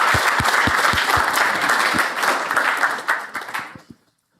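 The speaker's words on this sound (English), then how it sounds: "Let's give him a round of applause" An audience at an AI summit applauds a speaker: dense, loud clapping from a room full of people that thins out and stops abruptly after about four seconds.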